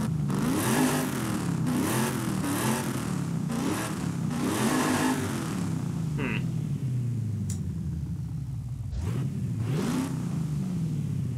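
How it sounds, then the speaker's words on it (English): A 1996 Chevy Impala fitted with a centrifugal supercharger in the Forza Horizon 5 racing game revs and accelerates repeatedly, a loud, steady engine drone rising and falling with a faint supercharger whine on top. "this is what the centrifugal supercharger sounds like"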